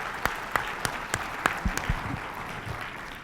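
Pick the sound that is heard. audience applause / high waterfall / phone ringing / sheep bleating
audience applause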